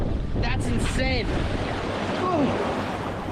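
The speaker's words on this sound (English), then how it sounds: "Oh, gosh, the waves are freaking huge over here" Large ocean waves surge and wash over a coral reef off Belize, a loud continuous roar of surf and wind buffeting the microphone, with brief vocal sounds early on.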